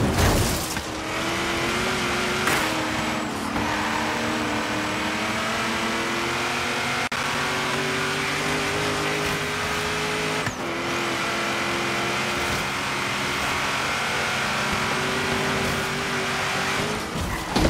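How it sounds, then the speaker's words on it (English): A fast Subaru drifts through the video game Forza Horizon, its engine revving hard while the tires squeal in long sustained skids, with a few abrupt gear or throttle shifts. "Fast Subaru, that's for sure. Just likes to do drifting for whatever reason."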